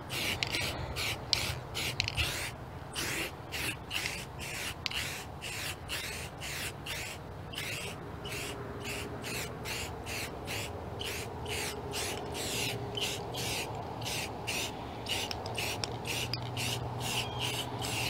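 Mirror spray paint hissing onto a plexiglass sheet in repeated short bursts, close and fairly quiet, forming a steady rhythmic pattern of sprays and pauses without talk.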